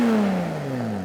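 A car engine fitted with a full exhaust, headers and X-pipe revs briefly, a loud close drone whose pitch slides downward as it settles.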